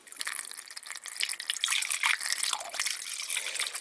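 Engine coolant is poured through a funnel into the radiator of a 2006 Dodge Dakota, giving a continuous close splashing, gurgling trickle of liquid that rises and falls in short surges.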